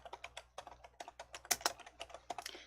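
Rapid, crisp keystrokes clatter on a computer keyboard in an uneven run of close, clear clicks, as a name is entered into an Excel scenario dialog.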